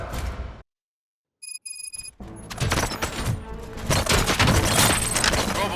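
Gunfire in an action film scene: a brief beeping electronic tone after a moment of silence, then loud, dense bursts of shots and impacts that build and continue to the end.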